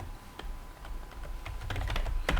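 Keys clatter on a computer keyboard in short bursts of close, crisp typing that grows denser and slightly louder toward the end.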